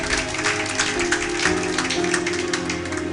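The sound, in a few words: church congregation applauding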